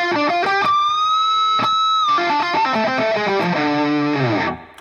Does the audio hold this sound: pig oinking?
no